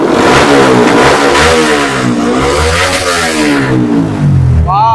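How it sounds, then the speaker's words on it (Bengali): A modified 2019 BS4 motorcycle exhaust revs hard at a bike showroom near Kolkata, a loud, close, continuous roar whose pitch rises and falls through repeated throttle blips before cutting off. "একবার সাইলেন্সারের সাউন্ডটা দাদা আপনাদের শোনাবে।"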